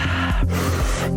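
Breathwork session with quick, sharp breaths drawn in close to the mic, two rapid gasping intakes in a burst lasting about a second.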